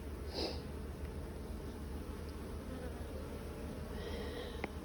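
Constant low buzzing of many honey bees around an open hive fills the air, dense and steady, with a few brief higher tones drifting past.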